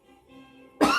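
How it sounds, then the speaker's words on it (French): A single sharp cough bursts out at the very end, loud and close, after a faint tonal hum. "tu me fais tousser maintenant"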